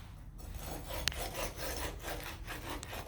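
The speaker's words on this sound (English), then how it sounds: "We remove the extra concrete." A striking bar scraped across the rim of an air meter bowl to strike off excess concrete, a close, gritty rasping rub with short repeated strokes and a brief click.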